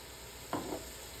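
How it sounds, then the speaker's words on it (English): White wine poured into a sizzling beef stew with potatoes, then stirred: a short, close burst of hissing and liquid splash lasting under a second over a quiet background. "We add white wine to the preparation."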